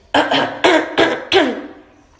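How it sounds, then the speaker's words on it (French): Four sharp, muffled coughs into an elbow in quick succession, close by, each a short burst with a brief pause between, trailing off into quiet. "Pensez bien à tousser dans votre coude comme ceci"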